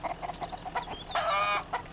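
Chickens cluck and squawk in the survival video game Mist Survival, a few short calls and one longer, louder squawk, fairly close, with no talk over them.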